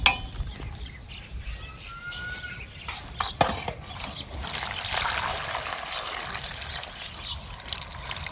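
Fresh, tender green leaves are rinsed in water, giving soft trickling and splashing with light clinks from a vessel, fairly faint and close, with no talk.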